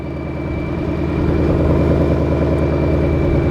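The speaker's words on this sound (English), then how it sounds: "You can hear the blower whining." An ESS supercharged Ford Mustang 5.0 with an MBRP street exhaust runs steadily, giving a loud, constant low engine drone with a thin, even blower whine above it and no talking.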